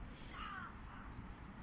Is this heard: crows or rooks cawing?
yes